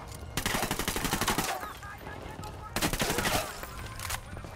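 Automatic gunfire in the video game Ghost Recon Wildlands, two long rapid bursts of loud shots separated by a short lull, with someone talking over the action.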